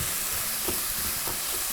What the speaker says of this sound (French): Allez, je mélange.